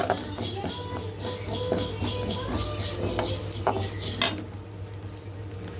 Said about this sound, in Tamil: நல்ல ஒரு வாசம் வர வரைக்கும் வறுக்கணும்.